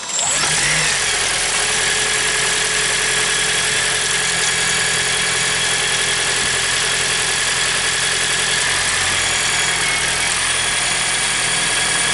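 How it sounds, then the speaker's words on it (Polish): Suzuki Swace 1.8 hybrid with a Toyota engine and e-CVT gearbox running smoothly, a steady close hum with faint tonal whine holding even throughout, with no voices. "Posłuchajcie jak delikatnie i aksamitnie pracuje tutaj silnik."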